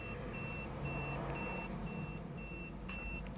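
Reversing beeps sound inside a 2020 Ford Focus after it is shifted into reverse, a faint, evenly spaced series of electronic tones repeating over a low steady cabin hum.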